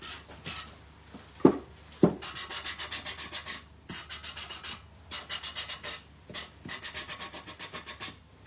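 Sandpaper rubbing over a chocolate-painted surface to distress the raised bumps, close, rhythmic back-and-forth rasping strokes in bursts with short pauses and a couple of soft knocks, no talking.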